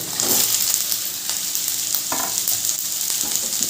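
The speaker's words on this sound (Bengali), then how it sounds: "ওগুলো কুচি করে কেটে রেখেছি এবার ওগুলো দিয়ে দেবো" Chopped green tomatoes and onions fry in a pan with a steady, loud sizzle, broken by a few short scraping stirs close by.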